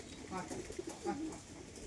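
Breeding standing-type tumbler pigeons at a loft coo in soft, low repeated phrases, fairly close, with a faint voice in the background.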